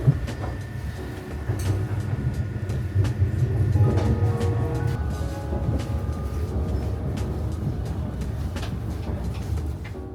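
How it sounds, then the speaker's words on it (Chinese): An Izu Kyuko Resort 21 Kurofune electric train passes alongside on the Izu line, giving a steady, fairly loud rumble with faint rail clicks that lasts about ten seconds, with no talking. "右边交汇的列车是伊豆急的Resort 21黑船电车"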